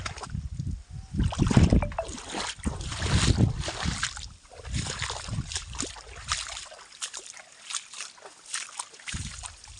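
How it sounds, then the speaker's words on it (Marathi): Water overflowing a check dam at the edge of a farm field, a continuous rushing and splashing flow with gusty, uneven swells and wind-like noise, no clear talk. "बंधारा पण वरफुल वाहत आहे या ठिकाणी."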